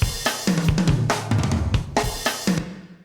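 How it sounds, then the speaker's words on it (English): A sequence of booming tom drum hits rolls through a fill, each one ringing out into a wash of reverb that fades at the end. "if we go back to that big tom fill that we had from before"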